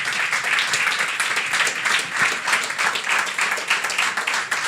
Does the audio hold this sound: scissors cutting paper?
no